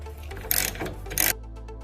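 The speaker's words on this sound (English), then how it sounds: "So we'll just use a ratchet and a wrench." A ratchet turning on a 70mm shock absorber bolt and nut on a FIAT 124 Spider, two short bursts of quick metallic clicking close to the microphone, separated by a brief pause.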